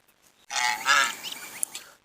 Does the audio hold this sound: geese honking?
yes